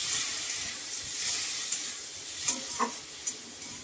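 Chopped tomatoes go into browned onions frying in a pan, producing a continuous close sizzle and hiss with a few soft stirring knocks toward the end.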